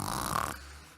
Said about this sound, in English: He snored so loudly the woodcutter heard him